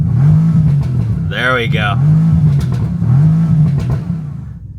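A Bentley Continental GTS with a twin-turbo V8 and sport exhaust sits stationary while its engine is revved in repeated loud, rising-and-falling pulses, close by, with someone speaking briefly over the engine noise.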